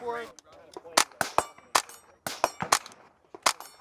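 Shots from an H&K .22 rimfire AR-style rifle at the range, a string of about eight sharp cracks in quick irregular succession, fairly close, with some faint speech-like sound between them.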